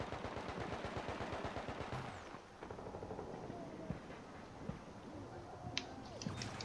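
Turret in The Division firing a machine gun, a rapid close burst of evenly spaced shots that stops after two seconds, followed by quieter scattered gunfire and clicks.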